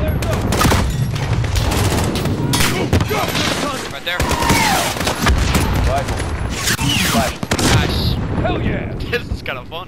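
Heavy bursts of automatic gunfire and booming cluster air strike explosions fill the battle in Call of Duty: Modern Warfare (2019) campaign, loud and continuous, with voices talking over the combat.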